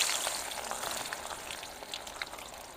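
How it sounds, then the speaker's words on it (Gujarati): Onions dropped into hot oil in a pot at a forest night camp, frying with a steady crackling sizzle that starts strong and settles into a fainter, even hiss with scattered pops. "ડુંગળી પહેલા નાખી દઈએ."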